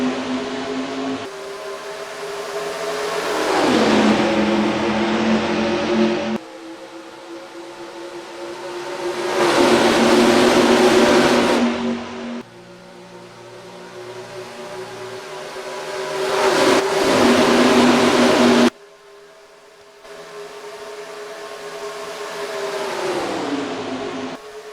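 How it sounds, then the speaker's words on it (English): Race cars in the NR2003 racing game circle the Indianapolis Motor Speedway in a green-flag race, engines roaring loudly as several cars sweep past in waves, pitch falling as each pack passes, with no talking. "And we're green flag racing at the Indianapolis Motor Speedway."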